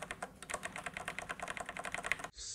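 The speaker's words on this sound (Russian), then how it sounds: "Это относительно негромкие и быстрые свитчи, при том, что у них очень приятное нажатие, а звук офигенный." Mechanical switches on a Corsair K63 Wireless keyboard clack in a quick, even run of keystrokes, close and fairly quiet, with no talking.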